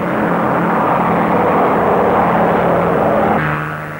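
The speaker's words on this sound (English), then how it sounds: "Another Dutch entry, Parmentier and Mull, in the KLM Douglas" A KLM Douglas propeller airliner in an air race flies past with a steady, loud, continuous engine drone that eases off slightly near the end.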